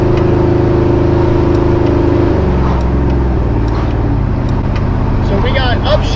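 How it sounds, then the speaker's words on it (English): Supercharged LT4 V8 in an OBS Chevy Tahoe droning loudly up close, engine pitch dropping and shifting as the paddle shifters change gears, with speech faintly over the steady engine roar. "now we have paddle shifter action"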